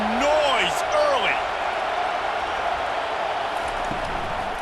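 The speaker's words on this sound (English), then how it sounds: "This crowd bringing the energy and noise early." Roaring stadium crowd in EA Sports College Football 25 during a Florida vs Texas game, a loud steady wall of cheering with whistles and shouts, under a commentator's voice.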